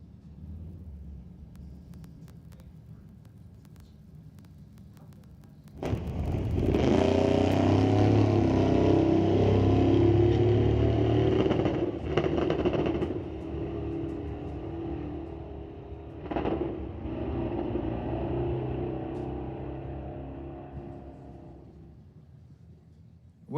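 A loud 350-powered 1938 Pontiac drag racing car engine suddenly roars to life and holds a heavy rumble, breaking up, stumbling and dropping out briefly a couple of times before fading.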